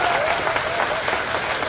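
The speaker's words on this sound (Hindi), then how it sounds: "राउंड ऑफ अप्लॉज योरसेल्फ, एक बार अपने लिए ताली बजाएं।" An audience applauds at a stand-up comedy show, with steady, dense clapping from a crowd that fills the whole moment without letup.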